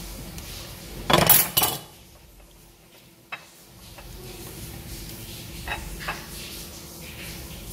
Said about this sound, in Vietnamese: Thái miếng bản to, mỏng.